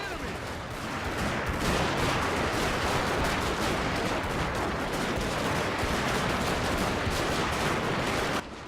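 Gatling guns firing in the video game Total War: Fall of the Samurai, a dense continuous crackle of rapid gunfire that stays loud and sustained almost the whole time before cutting off at the end.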